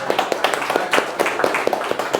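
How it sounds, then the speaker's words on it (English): Brief burst of audience applause after a thank-you at a Father's Day gathering, a dense patter of many hands clapping close and lively for about two seconds with no talk over it. "Round of applause for everybody being here"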